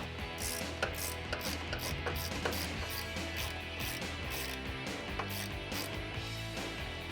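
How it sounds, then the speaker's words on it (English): A 15mm ratcheting wrench backs off the strut nuts on a 2004-2008 Ford F150 during a leveling kit install, giving a steady run of quick ratchet clicks with sharper metallic ticks now and then, close and even. "grab a 15mm ratcheting wrench"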